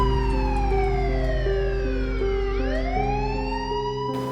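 Ambulance sirens wailing loudly at a boat ramp after a boat accident, two overlapping tones sweeping down and up in pitch, continuous and close throughout.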